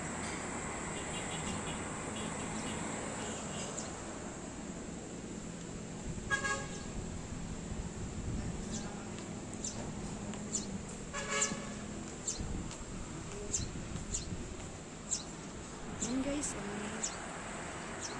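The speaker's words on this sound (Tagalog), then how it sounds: "May dumadaan ng mga sasakyan." Traffic passes on a road below a hilltop in Antipolo, Rizal, heard faint and distant, with several short horn toots over a steady background hum and insect chirping.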